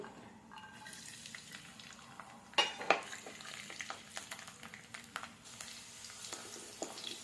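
Cumin seeds frying in hot oil in a pan for bitter gourd thokku, a soft steady sizzle with scattered crackles and a couple of sharper clinks of a spoon or pan near the middle, close by, with no talk.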